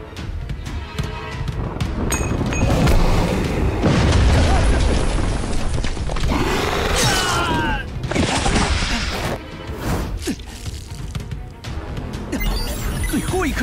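A grenade blast in an animated martial-arts fantasy series: loud booming explosion with crashing debris and rumble sustained over several seconds, layered with dramatic sound effects and some voice.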